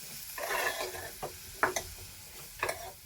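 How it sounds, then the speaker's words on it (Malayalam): Ripe gooseberry pickle being stirred in a pan, with soft scraping and a few brief spoon knocks over a faint sizzle, quiet and close. "ഇനി നമുക്കിത് ഇളക്കി കൊടുക്കണം കുറച്ച് നേരം"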